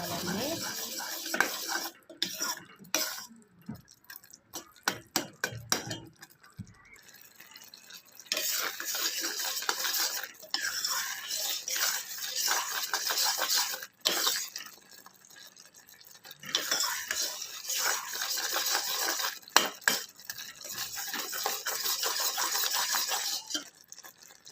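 Ghee being stirred into food in a metal pot: repeated scraping and clinking of a spoon against the pot in bursts, with quieter pauses between, close and fairly loud with no talking.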